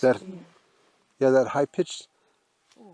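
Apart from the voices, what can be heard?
No everyday noise stands out behind the speech.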